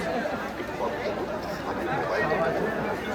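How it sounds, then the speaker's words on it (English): A packed midnight Eid bazaar crowd at Charminar in Hyderabad, a constant dense babble of many voices and street noise close around, steady and loud throughout. "Charminar is crowded like anything."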